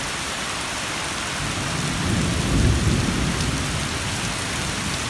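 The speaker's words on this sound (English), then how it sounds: "Storms in Atlanta. They are no joke." Heavy rain pours steadily during an Atlanta thunderstorm, a dense hiss with a deep rolling rumble of thunder swelling in the middle before easing back into the downpour.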